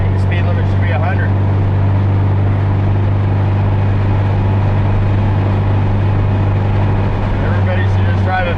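Volkswagen Beetle engine with dual carbs running hard at speed, a steady loud droning hum with road and wind noise, while someone talks over it.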